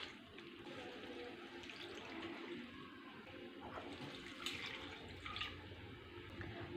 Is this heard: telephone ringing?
no